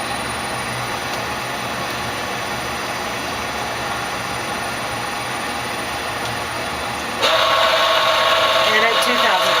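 Live tool spindles of a Tsugami BS-20BII Mark II CNC Swiss lathe spin at 1,000 RPM, giving a steady mechanical hum and whine. Partway through it jumps abruptly to a louder, brighter level.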